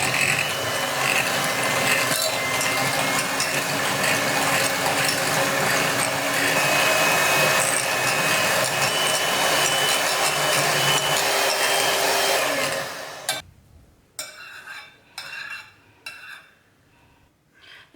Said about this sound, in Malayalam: ആദ്യം ലോ സ്പീഡിൽ തുടങ്ങിയിട്ട് നമുക്കിത് ബീറ്റ് ചെയ്തെടുക്കാം.